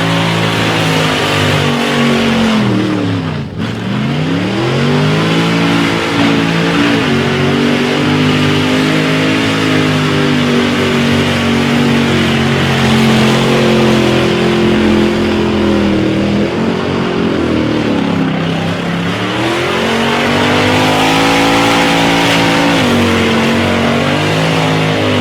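A Toyota 253 V8 drag car at a street drags event revs hard and loud for a sustained stretch, rising and falling pitch with a brief dip early on as the tyres spin, engine dominating throughout.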